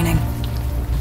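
Steady rain patters on surfaces in a Manhattan street scene of the Unavowed adventure game, a brief continuous wash of drops over a low tonal hum.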